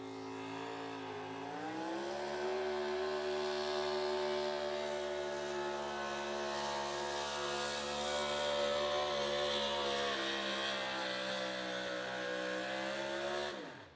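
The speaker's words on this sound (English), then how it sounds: "A sweet running Chevrolet." A Chevrolet pro stock 4x4 pulling truck engine revs up after a second and holds a loud, steady, smooth roar down the track, dropping off abruptly at the end.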